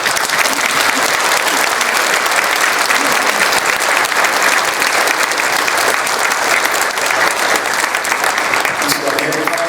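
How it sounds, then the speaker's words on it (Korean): A church congregation at a presbytery meeting in Jeonju applauds after a pastoral ordination, giving steady, sustained clapping from a large crowd that fills the hall without a break. "박수하시겠습니다."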